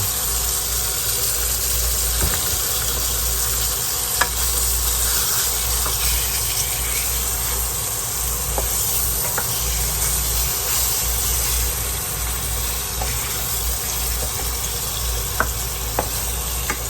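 Garlic butter steak sears on a hot plate with a loud, continuous close sizzle and occasional small pops and crackles throughout, with no talking.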